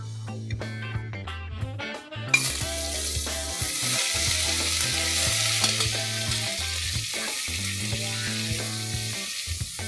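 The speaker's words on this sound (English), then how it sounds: "I'm going to just saute my mutton in this." Half a kilogram of mutton drops into hot oil in a pressure cooker and bursts into a loud, steady sizzle, with metallic clinks and stirring over background music.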